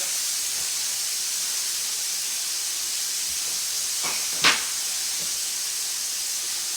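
Seasoned shrimp frying in a hot pan give off a steady, even sizzling hiss throughout, with one brief sharper pop or clatter close by near the end.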